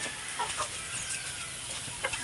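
Chickens cluck in short, scattered bursts over a constant outdoor background hiss, near and moderately loud, with no talking.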